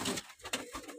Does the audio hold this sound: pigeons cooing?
yes